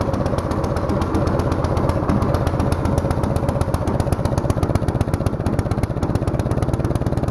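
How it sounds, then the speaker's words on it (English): A Troy-Bilt 6 hp snowblower engine runs on choke in below-zero cold, with a steady, fast, loud chugging putter and a metallic clatter throughout, no voices. "It really likes to run on choke when it's cold, because it needs more fuel."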